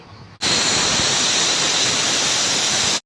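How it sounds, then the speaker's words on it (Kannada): A pressure cooker whistles with a loud, steady hiss of venting steam while tomato bath cooks inside; the jet starts abruptly, holds constant for about two and a half seconds, then cuts off sharply. "ಕುಕ್ಕರ್ ಕ್ಯಾಪ್ ಹಾಕಿದ್ಮೇಲೆ 2 ವಿಷಲ್ ಕುಗ್ಸಿ"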